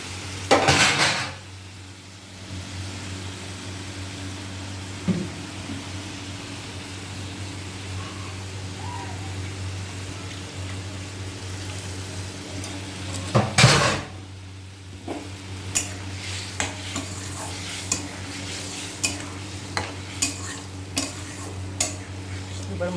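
Chopped tomato goes into spices frying in a pan, opening with a sharp clatter and sizzle, then a steady hum with scattered metallic taps and scrapes as it is stirred.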